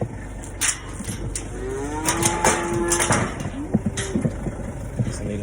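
Cows on a farm mooing several times at close range, long drawn-out lowing calls over a low idling engine and scattered clanks.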